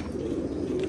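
Pigeons kept on a rooftop coo softly, a low murmuring hum over faint background noise, steady across the short moment.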